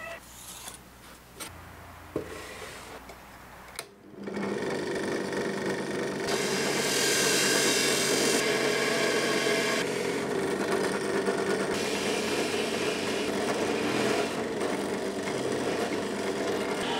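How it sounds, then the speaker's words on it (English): Power drill boring holes into the corners of an MDF lid, a loud sustained whirring grind that starts abruptly after a few seconds of quieter workshop handling noise and runs steadily to the end. "To make my cutouts, I first drilled holes on the corners of where each cutout is going to be."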